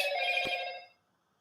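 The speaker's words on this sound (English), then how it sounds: "Oh, God, there goes my phone." A mobile phone rings loudly and close by for just under a second, a bright electronic trill with strong harmonic tones, then fades to silence.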